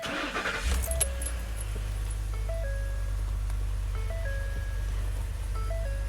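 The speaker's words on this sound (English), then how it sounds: "see how it idles there." A 2010-14 Ford F-150 with the 6.2L V8 idles roughly, a steady deep rumble throughout, with a faint clatter at the start and a repeating electronic chime stepping over it.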